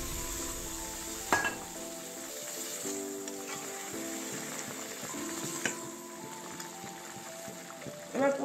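Boiled mung dal tipped into a pot of fried fish heads for a Bengali muri ghonto, with steady sizzling underneath, a couple of sharp spoon and pot clanks, and brief stirring scrapes near the end.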